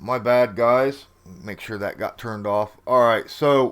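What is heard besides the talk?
No everyday noises stand out.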